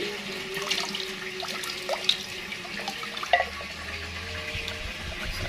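About two liters of water poured from a bottle to mix an insecticide for plants, a quiet splashing trickle with a few small drips and clinks, close and steady without talking.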